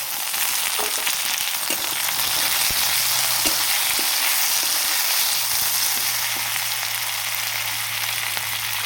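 Chopped onion and tomato fry in a pan, giving a steady, loud, close sizzle with faint crackles that holds for the whole stretch, and no voices are present.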